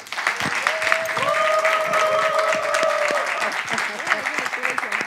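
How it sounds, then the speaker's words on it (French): Applause from a studio audience during a live French-language talk show, sustained clapping at even loudness for several seconds, with a voice and tonal sounds running through it. "Est-ce qu'on peut applaudir Léon pour moi?"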